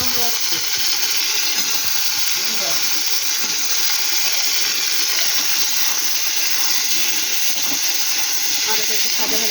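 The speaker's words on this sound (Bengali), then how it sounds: "দেখুন আমার আলুটা ভাজা ভাজা হয়ে গেছে" Cut potatoes fry in hot oil over already-browned onions, giving a loud, steady hiss and sizzle that runs unbroken throughout, with a faint voice murmuring beneath.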